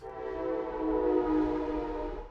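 A train rumbles past nearby with a steady, droning hum that swells and eases over a couple of seconds, with no voices.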